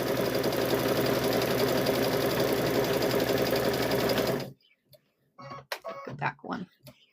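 A sewing machine stitches a hummingbird and butterfly quilt block in a steady, loud, continuous run for several seconds, then stops abruptly, leaving quiet with a few short bumps and handling noises.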